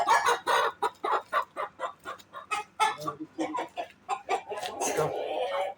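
Sussex chickens cluck in a coop being cleaned, a steady close run of rhythmic clucks and short calls filling the clip, with people talking alongside.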